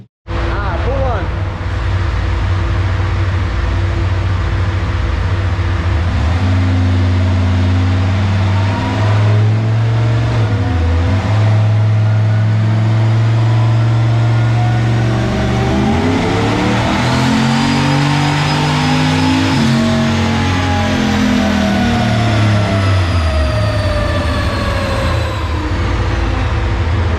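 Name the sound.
Maliboom car engine revving on the dyno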